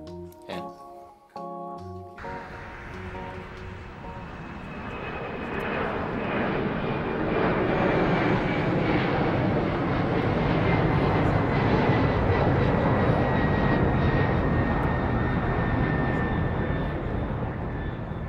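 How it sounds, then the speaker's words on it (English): Japan Airlines Boeing 777 jet engine roars steadily in flight, heard from a small economy class exit-row seat in the cabin, a loud broad continuous drone with a faint whine after a short opening bit of other sound. "This is me on board a Japan Airlines 777 in a very small economy class seat."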